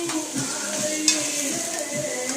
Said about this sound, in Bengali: তো আমি পেঁয়াজটাকে সাদা তেলে দিয়ে দিয়েছি অল্প, আগে এটাকে আমি ভেজে নেব।